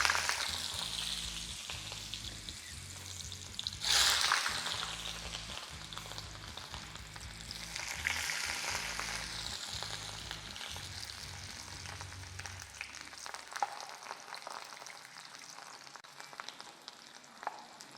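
Bitter gourd pieces sizzle and crackle steadily in hot oil, with a bright hiss and scattered pops. A stirring clatter lands early, and the frying fades toward the end.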